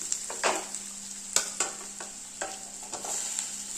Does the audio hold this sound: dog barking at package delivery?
no